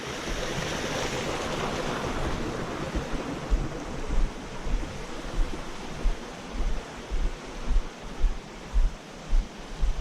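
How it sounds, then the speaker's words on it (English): Rushing water of the Gunpowder River in Hemlock Gorge, a continuous broad roar of flowing current, steady and fairly loud, with gusty surges growing toward the end and no voices. "if you can still hear me over all this rushing water."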